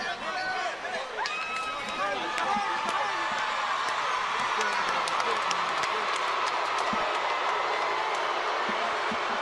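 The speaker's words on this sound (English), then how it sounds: "The crowd showing their approval and their appreciation." A boxing crowd at an arena applauds and cheers after a fight in a dense, continuous roar of clapping and shouts that swells and holds steady. Commentators talk over it.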